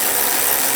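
A ratchet clicks rapidly and steadily while headlight assembly bolts are tightened down on a 2013-2016 Dodge Dart, loud and close in one brief burst.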